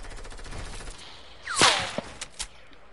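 A sniper rifle fires in a video game, one loud crack with a sweeping whoosh, then a few smaller shots and clicks close behind it.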